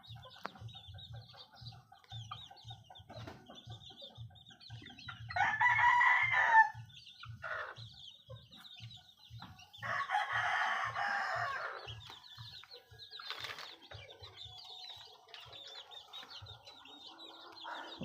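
Chickens in a farmyard, a rooster crowing loudly twice amid steady low clucking and other bird calls, fairly close with no talking.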